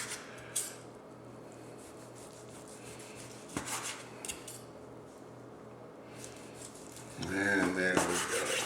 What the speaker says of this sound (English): we are going to slice these up into about 1-inch slices